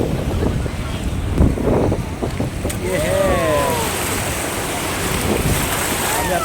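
A tour boat rides the open sea off Krabi, Thailand, with a continuous rush of waves and heavy wind buffeting close by, while a voice briefly calls out over the churn.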